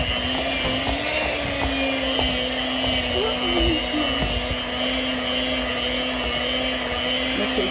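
An electric mixer whirring through cheesecake batter in a home kitchen, a steady, close motor drone with a faint pitch wobble, running under occasional soft talk.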